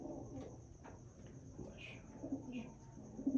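Pigeons from a breeder's loft give soft, low cooing calls, a couple of brief swells over a murmur of background voices and light bird chatter.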